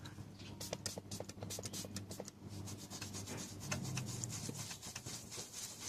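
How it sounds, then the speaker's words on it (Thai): Vigorous scrubbing of a motorcycle part coated with MAX-1 Engine Clean cleaner, rapid rhythmic rasping strokes up close, continuous brushing with no talk. "ผมจึงสามารถออกแรงขัดได้ เต็มที่นะฮะ"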